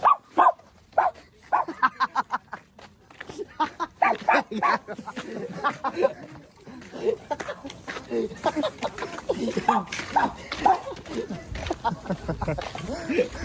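Dog barks during an outdoor walk, coming in short bursts amid ongoing conversation between people nearby, moderately loud and mixed under the talk.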